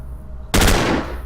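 Rifle fire in the video game Stellar Tactics, a sudden loud burst of rapid shots that rings out and fades over a second, with no talking.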